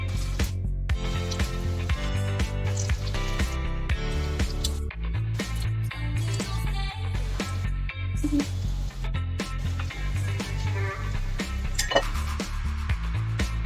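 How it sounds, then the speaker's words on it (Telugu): Bread cheese rolls frying in hot oil, with steady crackle and sizzle punctuated by clinking of utensils against the pan, close and continuous with no talking. "ఇప్పుడు మరిగిన ఆయిల్లో ఈ రోల్స్ని"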